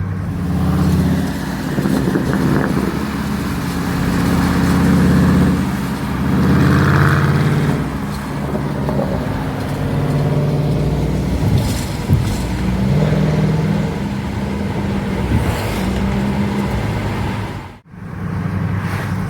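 A Dodge Durango SRT with a 392 V8 and 8-speed automatic accelerates through third, fourth and fifth gear, a loud continuous engine drone with shifting pitch, heard from inside the cabin with a brief dropout near the end.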